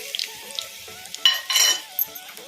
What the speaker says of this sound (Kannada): ಸ್ವಲ್ಪ ಒಣಮೆಣಸಿನ್ಕಾಯಿ ಹಾಕೋಣ